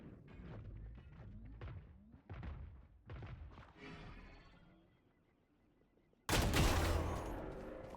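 Gunfire in a Valorant esports match: several muffled thuds and shots spaced out over a few seconds, then a sudden loud burst of fire near the end.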